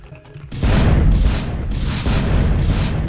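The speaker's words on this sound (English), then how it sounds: "I have an LMG of rocket launchers." Rapid barrage of rocket launcher explosions in the Roblox game Miner's Haven: loud, heavy booms start abruptly and roll on in overlapping blasts, with no voices.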